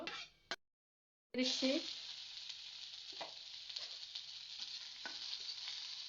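Onions hit hot oil after a short silence with a sudden loud burst of sizzling, which eases into a steady, close frying crackle with occasional stirring clicks.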